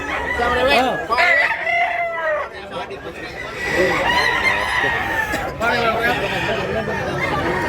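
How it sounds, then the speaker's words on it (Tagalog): Roosters crow repeatedly and cluck close by among a group of gamefowl, while men chat over and between the calls. "Guwapo mga manok to."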